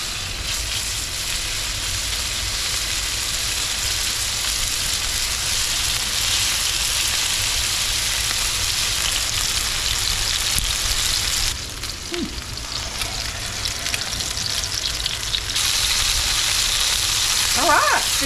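Chicken pieces sear in a hot pan for garlic chicken, giving a steady, loud broadband sizzle that runs unbroken throughout, with a brief clatter near the middle and no speech over it.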